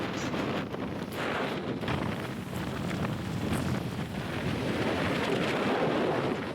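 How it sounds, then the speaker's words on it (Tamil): Strong, gusty wind roars steadily across a mountain dam in the Western Ghats, buffeting the microphone with continuous low rumble and hiss, loud and close, with no voices. "காத்தோட சத்தம் அந்த புயல் காத்து மாதிரி அடிச்சுக்கிட்டு இருக்கோங்க அங்க"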